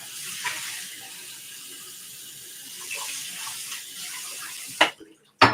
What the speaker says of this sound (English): I'll get myself water.